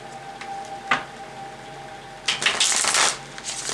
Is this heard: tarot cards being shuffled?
yes